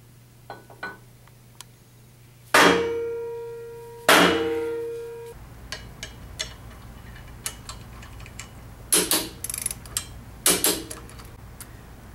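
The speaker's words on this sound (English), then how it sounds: "Once that's on, let's go ahead and mount the crank arm." An exercise bike crank arm being fitted onto the bottom bracket axle, with sharp metallic clanks that ring briefly, scattered soft ticks and taps, and a couple of bursts of close metal knocking and rattling later on.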